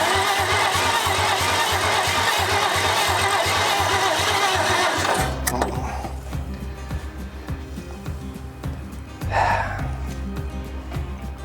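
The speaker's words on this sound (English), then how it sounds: "So we've got this engine running and even idling on its own" A 1947 International Harvester KB3 fuel truck engine runs loud and rough at first, then drops into a steady, close idle with a low, even throb that carries on by itself.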